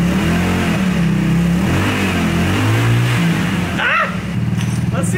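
A homemade double-engine go-kart starting up, its small engines running loud and close with rough revving surges and a brief dip near the end, voices speaking over the noise.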